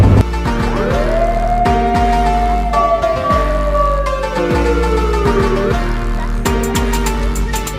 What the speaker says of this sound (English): We've all heard the siren.